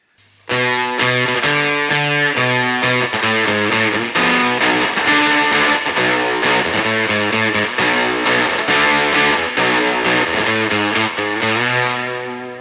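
An electric guitar through an octave fuzz pedal plays a driving riff, its buzzy, harmonically rich tone sounding thick and aggressive, ending on a sustained note.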